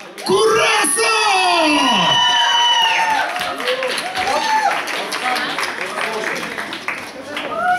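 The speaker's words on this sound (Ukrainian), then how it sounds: "Зустрічайте вашими бурхливими шаленими оваціями." A concert audience at the Indigo venue in Kyiv roars with yells, whoops and cheers, then settles into sustained applause and crowd noise, loud and close throughout.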